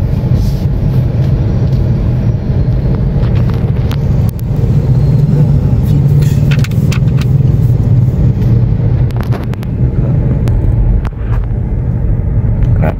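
A car rides through city traffic with a steady low engine and road rumble from inside the cabin, loud and continuous, with occasional faint clicks and no clear talk.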